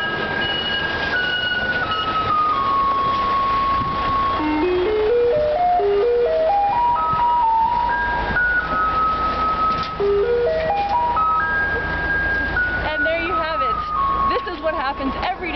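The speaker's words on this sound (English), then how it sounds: "here comes the truck right now, and watch how these citizens, these residents, are going to chuck their garbage into the garbage truck" A garbage truck in Kaohsiung, Taiwan, plays its loud melodic jingle as it arrives, a bright tune with rising note runs repeating continuously over engine rumble and street noise.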